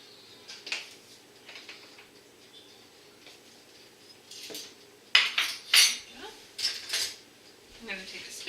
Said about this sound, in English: I'm going to take a spoon and stir that all up.